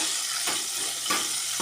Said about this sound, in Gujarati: હવે થોડી વાર તેલમાં થવા દેવાના છે.